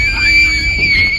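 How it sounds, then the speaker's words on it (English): A sudden, loud, piercing scream holds one high sustained pitch for about a second in a scary paranormal clip, with low background rumble beneath it. "A sudden loud scream sends the girls running in terror."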